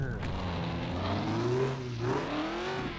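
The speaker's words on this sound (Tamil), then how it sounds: "ஓகே, இப்போ வண்டி எடுத்துகிட்டு கிளம்பிடலாம்." Car in a car dealership game pulling away, its engine rising and sliding in pitch through a gear change, fairly close and moderately loud.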